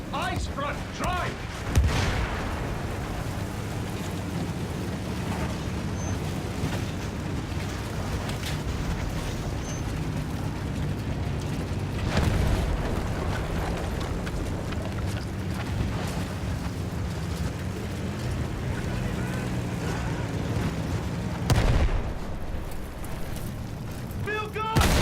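Field guns boom in a World War I battle in the video game Battlefield 1, with heavy blasts at intervals over a constant rumble of combat and vehicle noise, while voices shout in the background.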